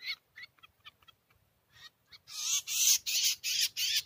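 Swiftlets call near a nesting house, starting as sparse short chirps and building into a dense, continuous chorus of high, twittering calls that grows louder toward the end. No one speaks.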